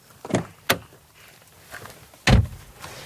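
Dacia Jogger Comfort with keyless entry: a few sharp mechanical clicks and clunks from the car door lock and handle, spaced apart, close and clear against near silence.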